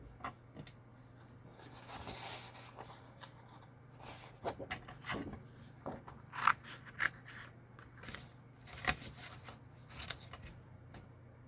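Scissors cut out paper shapes with soft, repeated snipping and crisp paper rustles, close and quiet, in irregular bursts over a faint steady hum.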